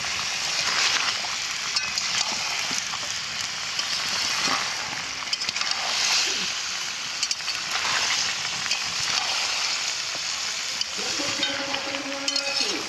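Potatoes sauté in a pan, keeping up a continuous close sizzle and hiss, with occasional scrapes and knocks from stirring and a faint tonal hum near the end.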